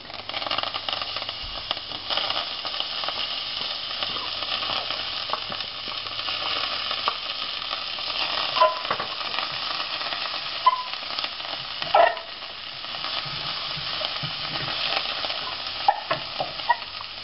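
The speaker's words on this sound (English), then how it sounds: "make sure that you stir constantly" Onion frying in a pan for mutter paneer is stirred constantly, giving a loud, steady sizzle with continuous scraping strokes and occasional clicks of the spoon against the pan.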